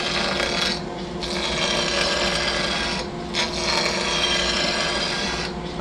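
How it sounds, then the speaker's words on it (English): Skew chisel taking a planing cut along a beech blank spinning between a cup drive and live center on a wood lathe, a continuous loud close rasping shear with brief dips as the tool shifts. "I'm going to get ready to do a planing cut."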